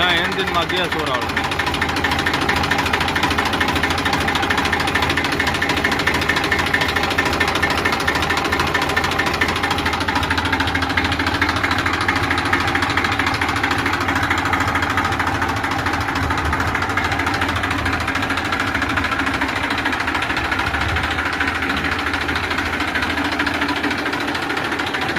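A double-clutch tractor's diesel engine runs close and loud, a steady rough chugging throb with a knocking edge that holds unbroken throughout.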